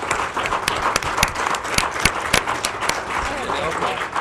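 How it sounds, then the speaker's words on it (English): Audience applause at the close of a candidates' debate, sharp irregular claps mixed with crowd noise and talking throughout. "Now you can applaud."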